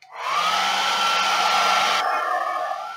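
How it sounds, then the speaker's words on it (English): A hair dryer blows over wet watercolor paint on a magnolia flower painting, a steady, close, loud whooshing hum running alone for the whole stretch and dropping slightly in tone partway through. "Sometimes you just got to get the hair dryer."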